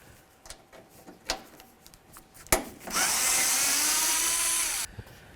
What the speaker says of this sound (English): we can continue on by removing these three bolts using our T27 bit